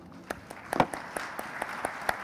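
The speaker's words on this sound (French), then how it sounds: "Merci beaucoup, on peut l'applaudir." A few scattered, faint hand claps from a conference plenary audience after a talk on local and social e-commerce, with sharp individual claps spaced irregularly over a quiet room.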